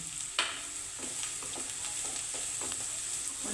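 A red tomato frying in oil in a pan gives a continuous soft sizzle, with a few scraping stirs of a spoon against the pan breaking through close up.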